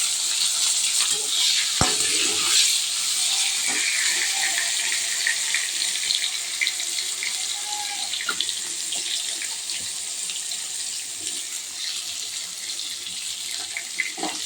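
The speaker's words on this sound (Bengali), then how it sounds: "এখন এই তেলের মধ্যে বেগুনটা আমি ভেজে নেবো প্রথম।" Eggplant pieces fry in hot oil in a home kitchen, giving a continuous bright sizzling hiss with a few scattered pops and clinks, with no talking.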